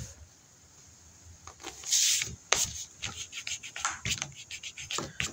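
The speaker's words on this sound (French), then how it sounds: "Là, je frotte pour enlever les saletés que j'ai mis." Paper being rubbed by hand to lift off glue residue during a scrapbooking project, close-up dry scratchy friction strokes that come in irregular bursts, with a louder rasping patch early on, and no speech.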